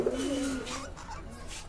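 A pair of running pigeons kept for sale gives a brief, close coo at the start, fading into a soft murmuring background.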